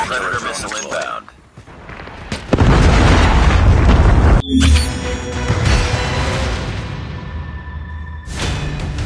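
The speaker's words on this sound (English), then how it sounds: "Predator missile inbound." A predator missile strike in Call of Duty Mobile, a loud booming explosion followed by rumbling debris and a second burst, with game voice callouts heard around it.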